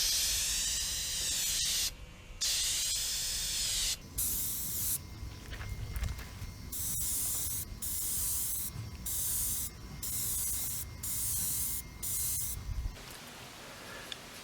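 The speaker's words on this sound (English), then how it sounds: "we're going to do a protective clear coat finish on the different panels" Spray can laying protective clear coat onto aluminum R2D2 panels, with repeated hissing bursts of varying length separated by short pauses, close and steady.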